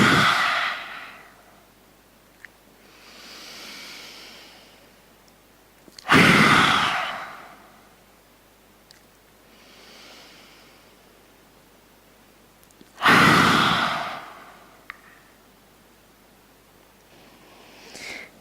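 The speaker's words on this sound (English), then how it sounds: "take a few rounds of a lion's breath by breathing in deeply through the nose, exhale, sticking out the tongue and roaring through the mouth" Yoga lion's breath: two forceful, loud roaring exhales through an open mouth with the tongue out, spaced several seconds apart, with quiet inhales through the nose between them and no talking.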